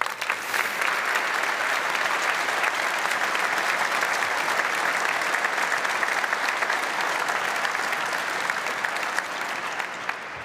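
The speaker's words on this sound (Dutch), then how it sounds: "En graag wil ik voor hen een hartelijk applaus." A large audience gives sustained, dense applause in a hall at a university academic year opening ceremony, even and loud throughout with no talking.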